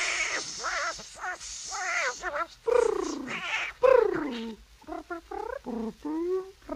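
A voice imitating a cat, drawing out a series of wavering meows, some long and some short and choppy, close and fairly loud.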